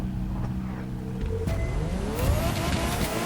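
A Ferrari F40 engine in the racing game The Crew 2 drones at high revs, its pitch sweeping upward through gear changes, loud and continuous with no voices.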